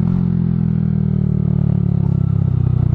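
A Honda Grom MSX125 with a cheap aftermarket Chinese exhaust, a close, loud, throaty single-cylinder burble pulsing rapidly and steadily with slight revving.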